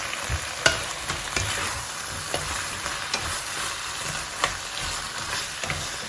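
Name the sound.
tomatoes added to a hot pan, sizzling and stirring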